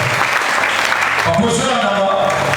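A church congregation applauding and cheering for the Lord, dense clapping that fills the room alongside a preacher's voice and a swell of crowd noise.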